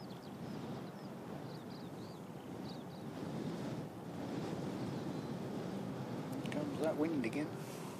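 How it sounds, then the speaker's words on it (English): Gusty wind buffets the microphone outdoors at Christchurch Airport, a broad, rising rumble with a voice briefly audible near the end. "Comes that wind again."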